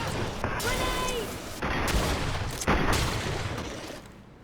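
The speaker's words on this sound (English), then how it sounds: "Watch out! Grenade!" Grenade blasts and combat noise in the video game GreedFall, with loud thudding bursts around the middle and end amid ongoing fighting clatter, while character voices shout over it.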